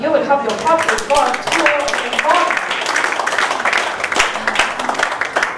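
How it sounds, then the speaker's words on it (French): A church congregation claps and cheers loudly in a sustained burst of dense applause, with a voice talking over the start. "Acclame bien fort"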